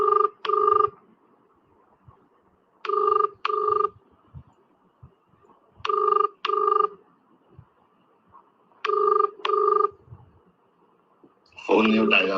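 Ringback tone of an unanswered phone call: four evenly spaced double bursts of ringing, loud and clear, with a quiet gap between each pair and a brief burst of other sound at the very end.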